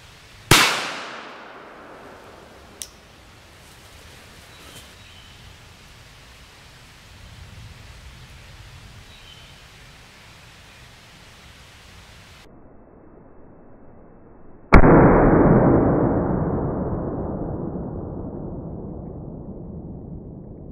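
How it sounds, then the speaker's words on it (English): A Glock 19 pistol with a 4-inch barrel fires Federal HST 147 gr rounds into a watermelon from a couple of meters outdoors, giving a sharp loud report, a faint crack, then a heavy blast with a long hissing decay. "So I was using the Glock 19, which has a 4-inch barrel, and I was shooting about a couple meters."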